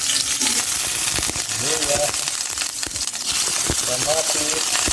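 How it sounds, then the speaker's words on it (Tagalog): Ginger sautés in hot cooking oil with a loud, steady sizzle under spatula clinks and scraping, while a person talks over it. "Gisa na po muna natin itong ating luya."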